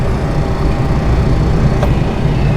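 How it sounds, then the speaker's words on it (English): A car's demister heater fan blows steadily inside a steamed-up car on a rainy morning, giving a loud, continuous broadband whoosh with a low rumble that holds unchanged throughout. "I'm going to have to put on my demister. So, sorry, it's going to get noisy."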